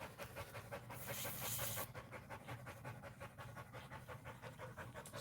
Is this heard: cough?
no